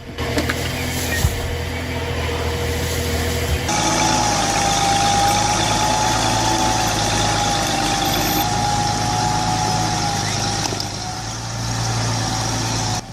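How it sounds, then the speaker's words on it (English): An MB Trac 1100 tractor engine runs steadily and loudly while pulling a massive beech log through mud, a continuous mid-pitched drone with a constant hum and no talking. "the MB Track 1100 tractor is pulling that massive beach log through the mud"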